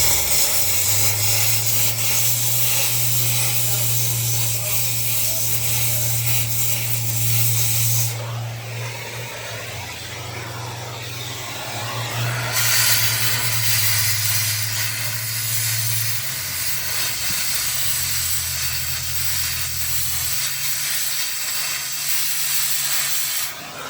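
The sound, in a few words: torching off paint and MIG welding a frame crack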